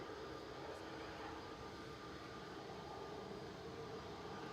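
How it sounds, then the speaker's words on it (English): An EasyJet airliner lining up on the runway at Manchester Airport, heard as a steady, broad jet-engine roar that stays even throughout, moderately distant with no voices. "So got EasyJet just about to line up in front of us"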